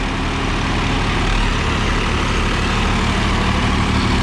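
Two tractors, a Swaraj 855 FE and a Farmtrac, run their engines steadily at about 1500 RPM, a loud, constant low diesel rumble with no talk over it.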